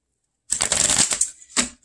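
Tarot cards are shuffled with a crisp riffling burst lasting under a second, followed after a short pause by a quick second flutter, close and clear against silence.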